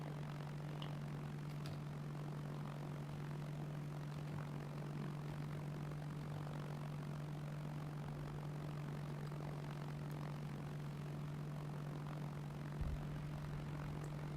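Steady propeller-aircraft drone from an airplane in a shooter video game, a constant, even engine hum holding for the whole stretch with no talk.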